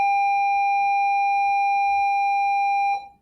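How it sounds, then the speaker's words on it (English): A school bell rings as a steady, sustained electronic tone heard in the background, holding unbroken for about three seconds before cutting off abruptly. "Sorry, that was my school bell, if you could hear that in the background."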